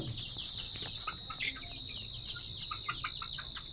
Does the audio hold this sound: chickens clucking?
yes